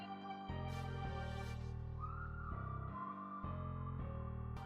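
A whistle lead layered over a synthesized beat, a sustained pure whistling tone gliding over steady tonal chords and pulsing bass, quiet and without voices.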